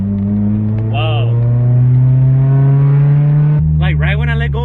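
Acura RSX Type-S with a newly installed stage 2 clutch kit, its engine revving up in a steady, loud rising drone that drops off sharply near the end, with a person talking briefly over it.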